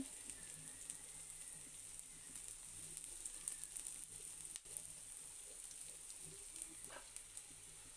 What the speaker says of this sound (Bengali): প্যানে একটু তেল দিয়ে নিয়েছি এখানে কিছুটা পেঁয়াজ দিয়ে নিব পেঁয়াজটা দিয়ে দিলাম